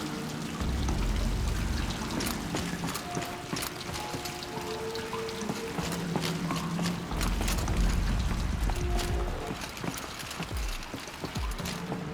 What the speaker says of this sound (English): The water's flowing, just not where it needs to.